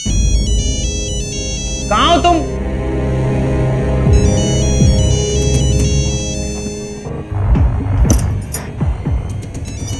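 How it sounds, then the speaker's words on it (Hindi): A mobile phone ringtone plays a repeating electronic melody indoors while a voice speaks over it, and a jangling rattle follows near the end. "तुम्हारा फोन है"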